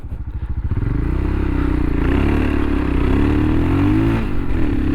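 A Royal Enfield Himalayan 462 riding off-road on Mitas EOS 7 tires, its single-cylinder engine thumping loudly up close as the throttle opens and holds, while the rear tire slides and scrabbles over loose ground.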